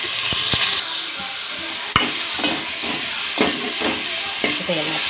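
Onion, tomato and garlic sautéing in a pan for fish curry, a steady sizzle with stirring scrapes and a few sharp utensil knocks, close and moderately loud, with no talk.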